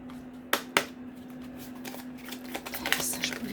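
Tarot cards are shuffled and drawn in two sharp snaps early on, followed by softer riffling and handling sounds. A steady low hum runs underneath throughout.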